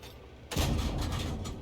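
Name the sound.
tank cannon shots in Valiant video game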